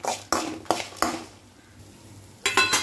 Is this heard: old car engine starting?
no